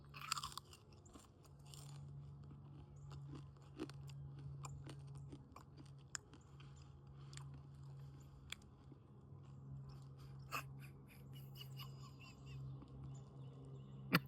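Crunchy homemade cured bacon being chewed close up, a steady series of sharp crunching bites and mastication running for several seconds with no talk over it.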